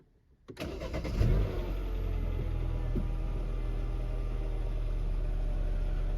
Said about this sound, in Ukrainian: Запускаю двигун.